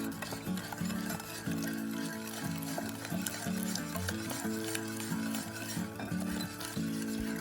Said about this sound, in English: So mix this well, and then slowly add orange juice to it.